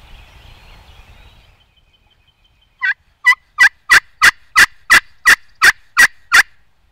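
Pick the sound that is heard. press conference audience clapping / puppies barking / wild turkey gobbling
wild turkey gobbling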